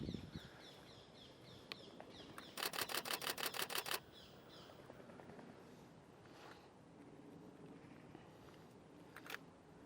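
A Canon 6D Mark II firing its shutter outdoors during nature photography: a rapid burst of about nine crisp mechanical clicks, preceded and followed by a few isolated single shots, with faint birdsong and ambient sound behind.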